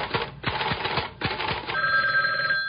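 A telephone rings nearby in several short, rattling bell bursts separated by brief pauses, then gives way to a steady electronic tone.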